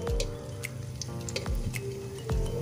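Lumpia shanghai fry in hot oil, a gentle steady sizzle with scattered soft pops and a few low thumps, fairly quiet and close, with no talking.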